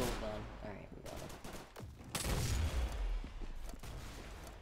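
Rapid bursts of gunfire in the Roblox shooter Arsenal, sharp repeated shots clustered near the middle over constant game noise and a talking voice.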